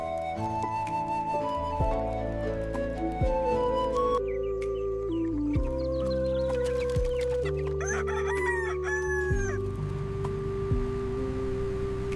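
Several roosters crow in turn while hens cluck, a busy farmyard chorus with overlapping calls and steady background noise.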